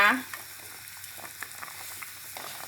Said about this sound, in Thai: พอน้ำเดือดแล้วนะคะ ปลาทอดค่ะ ปลานิลทอดนะคะ ใส่ลงไปเลยค่ะ น้ำเดือดเดือดนี่ค่ะ